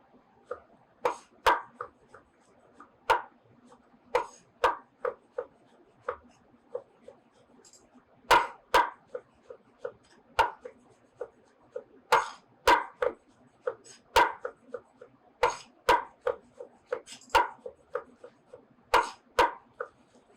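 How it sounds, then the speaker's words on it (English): A knife chops cremini and button mushrooms and vegetables steadily on a cutting board, sharp close taps repeating in an uneven rhythm with short pauses, with no talking. "we're basically going to finish chopping our vegetables"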